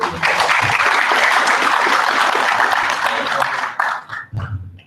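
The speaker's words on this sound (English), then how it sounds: "Can you please give him a round of applause?" A crowd at a Daily Dispatch event gives a sustained round of applause for the MEC of Rural Development and Agrarian Reform, Mlibo Qoboshiyane. The dense clapping thins out near the end as a voice begins speaking.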